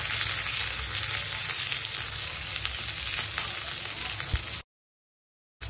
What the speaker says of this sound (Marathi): आता मी मिरच्या कट करून घेतले ते टाकते आणि थोडंसं फ्राय करून घ्यायचे